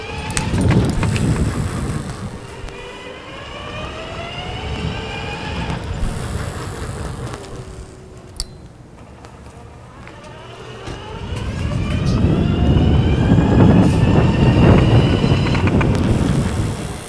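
A steady electric bike hub motor whine at full throttle climbs smoothly in pitch, dips, then rises again under heavy wind rumble from outdoor riding.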